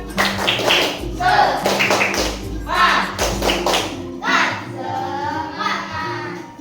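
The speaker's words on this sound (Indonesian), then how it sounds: "Tepuk semangat." A class of children does a rhythmic encouragement clap in a classroom, several bursts of clapping and thumping in a pattern, with children's voices chanting along.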